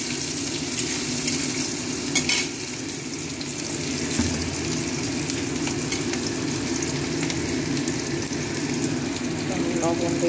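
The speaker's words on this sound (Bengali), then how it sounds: "পেঁয়াজটা লাল লাল করে একটু ভেজে নেব" Chopped onion frying in a pan, a dense continuous sizzle and crackle throughout with occasional stirring clatter, loud and close.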